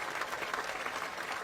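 A crowd of villagers claps together in a brief, even burst of steady applause, heard at some distance.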